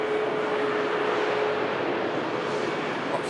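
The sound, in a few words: Ryanair jet touching down at Manchester Airport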